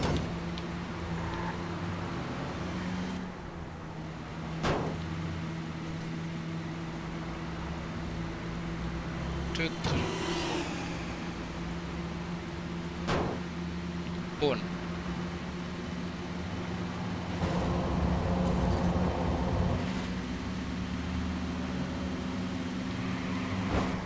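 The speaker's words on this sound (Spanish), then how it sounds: "Algún año de esto llegaremos con este coche, si es que no tira más" Car engine straining in the Watch Dogs video game, a steady low droning hum with scattered clicks and thumps, running for the whole stretch beneath occasional talking.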